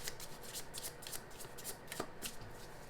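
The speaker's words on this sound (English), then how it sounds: "Let's do one more shuffle." Tarot cards riffle and shuffle in a quick run of crisp, papery flicks and snaps, close and fairly quiet, with no voice over them.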